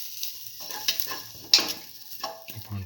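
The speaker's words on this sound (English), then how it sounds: "keep on sauteing" Green chili sautéing in a pan for a cucumber black lentil rice dinner, with soft stirring scrapes and a light sizzle in short bursts, close and fairly quiet.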